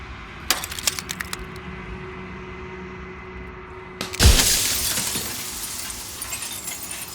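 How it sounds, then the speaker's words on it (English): A mirror shatters in the video game Slay the Princess: a few light clinks and taps, then a loud crash of breaking glass followed by a trailing spray of tinkling shards. "Crack! The mirror shatters and you are left with the shards."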